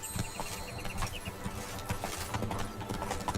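Horse hooves clip-clop steadily in a rhythmic trot while riding in The Witcher 3: Blood and Wine, with game ambience underneath.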